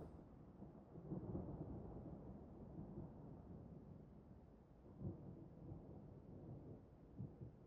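Quiet storm outside a café: continuous soft rain with distant thunder rumbling and a few duller thumps, faint and unbroken by talk.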